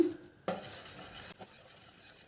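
A spoon stirs semolina pudding boiling in milk in a pan, making a soft scraping swirl and a light bubbling hiss close by, with no speech.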